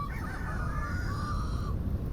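Chickens in the video game Vintage Story cluck and squawk in a short run of bird calls, faint and blended into a steady background hum.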